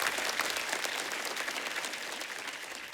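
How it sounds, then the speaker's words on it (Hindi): Studio audience applause on a comedy show stage, a dense steady wash of clapping that stays loud and even for the whole stretch with no voices on top. "एक बार राजू भाई के लिए जोरदार तालियां।"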